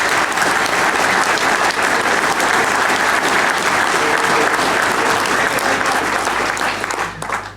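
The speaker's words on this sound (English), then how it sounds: "So I'd like to just a round of applause for David" At a political nomination event for the European Election, an audience gives loud, sustained applause that stays steady for several seconds before tapering off at the end.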